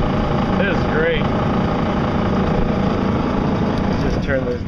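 Boat motor running steadily with a propeller shaft tube rattling at the back, a continuous loud engine drone with faint tonal sweeps on top and no speech.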